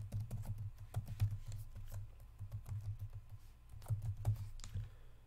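Login details are typed on a computer keyboard to connect a Twitter account, a steady run of soft, close keystroke clicks with brief pauses and no talking.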